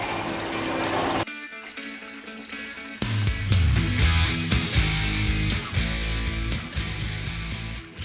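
A big pump moving aquarium water from a Red Sea reef tank up into a blue tub, a steady rushing, splashing water flow with a pump hum, loud and continuous, with a brief dip and a heavier surge partway through.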